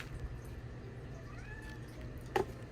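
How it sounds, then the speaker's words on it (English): A faint, short meow rises once near the end over a low steady hum of background noise. "What are you meowing about over there?"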